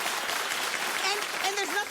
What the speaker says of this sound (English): Clap if you feel the same.